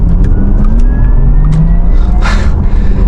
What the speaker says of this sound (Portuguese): ó, entrou a segunda marcha. Isso aqui é só o Porsche mesmo